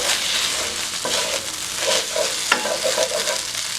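Rice stir-frying and crisping in a hot pan, a steady close sizzle broken by repeated scraping and stirring strokes from a utensil, with no voices.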